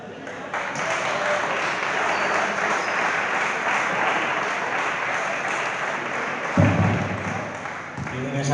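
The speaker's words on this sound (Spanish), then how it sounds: "muy bien ese aplauso para Demba Seri" A football stadium crowd applauds a player returning to the pitch. The clapping is sustained and fairly loud, a dull thump sounds near the end, and a commentator's voice runs underneath.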